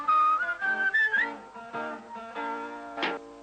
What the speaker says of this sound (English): whistles as he marches with his load upon his back